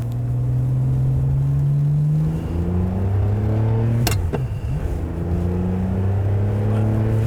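Ferrari 599 GTB with a manual gearbox, its engine droning steadily and loudly at near range, pitch rising and falling through gear changes, with a sharp transient midway.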